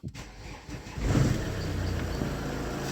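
A 2.0-litre Opel Zafira cranks briefly, then catches and settles into a steady, close idle that continues to the end.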